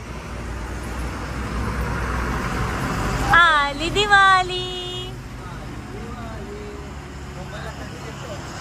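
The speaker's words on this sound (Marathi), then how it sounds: "थांबा काय आवाज गाड्यांचा." Road traffic rumbles steadily past a roadside salon, a continuous broadband wash of vehicles with a brief high horn-like tone midway, while people talk over it.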